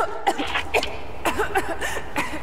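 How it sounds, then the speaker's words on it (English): A series of short, rough coughs from a character in Rise of the Tomb Raider comes in bursts, fairly close and moderately loud, with brief gaps between them. "You started coughing"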